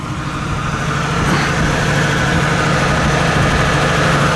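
A 1949 Lincoln car engine running at a steady idle, close and continuous, with a low rumbling drone and no talk over it.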